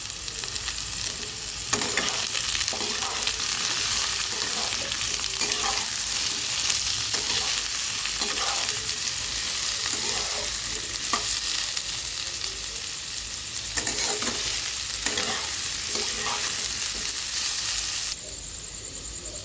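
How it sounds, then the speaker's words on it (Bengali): Potatoes and onions fry in a pan, a steady sizzle broken by repeated scraping stirs of a spoon, close and continuous, with the hiss dropping slightly at the very end. "আমাদের আলু পেঁয়াজটা খুব ভালোভাবে ভাজা হয়ে গেছে"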